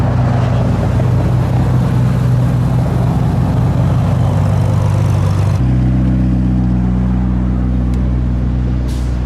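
McLaren Senna car engine while driving, a loud, steady low drone with sustained tonal hum, close and continuous, shifting to a slightly different pitch partway through as the engine note changes.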